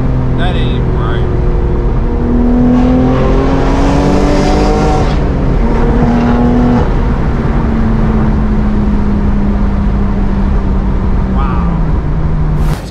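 A straight-piped BMW M4 G82 running a downpipe and Valve Master titanium exhaust roars nearby, rising in pitch through a hard pull, then settling into a steady, loud cruising drone.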